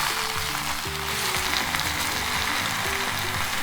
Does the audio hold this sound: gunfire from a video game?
no